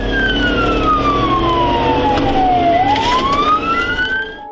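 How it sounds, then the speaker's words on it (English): Police siren wailing loudly and close during a pursuit, one long descending sweep that turns and climbs again over road and engine noise, no talk. "Sirens wail as Officer Daniels races to catch up."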